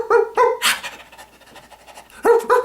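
A voice actor imitates a regular dog, giving quick panting breaths and a couple of short barks at close range, with no speech.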